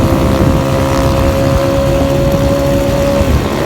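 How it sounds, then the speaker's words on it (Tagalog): A Honda Wave 100 motorcycle fitted with an open pipe exhaust runs close by, giving a loud, raspy, steady engine drone with a sustained tone, alone without talk. "Nakaset up na wave 100 open pipe."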